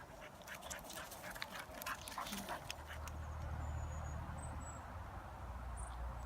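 Dogs bark faintly in the distance among trees by Underbank Reservoir near Stocksbridge, a few short, quiet barks over low ambient outdoor hiss.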